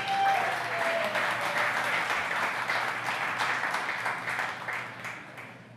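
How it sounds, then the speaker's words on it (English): A conference keynote audience gives a warm round of applause, a dense and steady crowd clapping that holds for several seconds before slowly thinning out. "huge round of applause for that"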